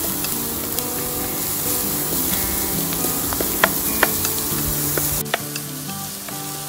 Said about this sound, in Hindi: थोड़ा सौते करेंगे